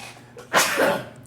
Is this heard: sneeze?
yes